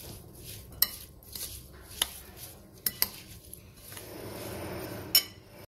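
Spoons clink against a bowl or jar while salt is stirred into homemade garlic pickle, giving a few sharp metallic taps scattered over soft scraping and mixing. No one speaks.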